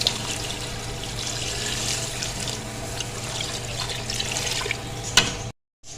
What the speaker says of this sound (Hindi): ये लें जी, पानी मैंने इसमें डाल दिया।